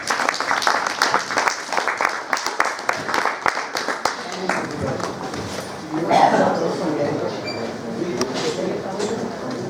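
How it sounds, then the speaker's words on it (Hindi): An audience at a Lions Club event applauds the district governor as chief guest, with dense clapping in the first four seconds, then a crowd murmur and a host's voice over fading applause. "जोरदार तालियों से आपका स्वागत करें सब लोग।"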